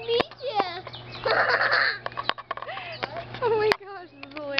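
A bird at the Dallas zoo clucks and squawks close by in short bursts and chattering calls, while people talk and laugh over it.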